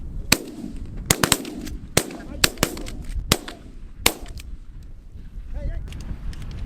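Shotgun blasts at geese during an early-season goose hunt in North Dakota, a rapid volley of sharp loud shots, several in quick succession with some spaced apart, over wind and field noise.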